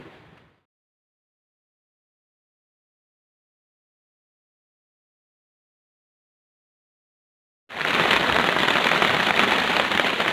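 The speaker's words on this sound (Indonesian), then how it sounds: "Hujan, saudara." Steady rain on a fishing trip in the rainy season starts abruptly after a long silence and keeps up as a loud, dense hiss to the end.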